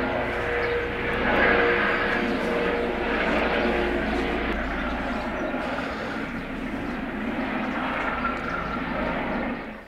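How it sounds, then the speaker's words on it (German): A helicopter flying overhead: a loud, continuous engine roar with a rotor-like throb holds steady throughout, then begins fading at the very end. "der Hubschrauber ist weg, somit auch der Radau"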